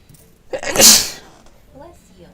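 One person sneezes once, close and sharp, with a quick breath before the burst and a brief fade after it, and a little quiet talk follows.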